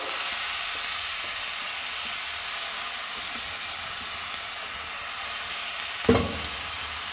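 Cooked horse gram goes into a sizzling tempering for hurali kat sambar, a steady loud fry hiss with soft stirring and one sharp clank near the end.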